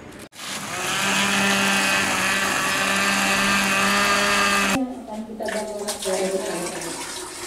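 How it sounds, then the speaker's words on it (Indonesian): An electric blender runs loudly and steadily, grinding seized methamphetamine evidence during a police narcotics destruction, its motor whine cutting off abruptly partway before clattering, irregular handling noises follow. "untuk jenis narkotika sabu dengan cara di blender"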